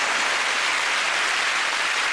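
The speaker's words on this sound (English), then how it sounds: "Round of applause." A television panel show studio audience applauds, with a dense, even wash of loud clapping and no voices on top.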